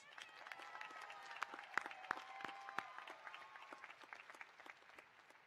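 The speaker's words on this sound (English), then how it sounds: "let's give them another big round of applause" Audience applause at a university commencement ceremony, many hands clapping at once in a sustained, fairly distant patter that swells slightly and then thins out.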